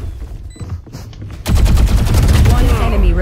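Rapid automatic gunfire from the Valorant shooter game, with a quieter stretch of scattered game sounds before a loud, dense burst of shots that keeps going to the end.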